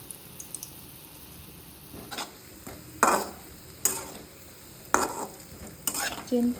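Gulab jamun are frying in oil in a pan, giving a faint, low sizzle. A handful of sharp scraping stirs come at irregular intervals.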